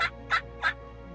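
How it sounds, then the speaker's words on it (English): A wild turkey gobbles in three quick, bright bursts, each rattling gobble clear and moderately close over a quiet outdoor background. "Got a bird gobbling over here."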